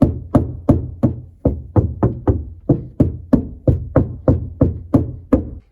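Firm knocks on a car's rear deck after Dynamat sound deadening was applied, about seventeen dull, damped thuds in an irregular steady rhythm, close and fairly loud with no talking.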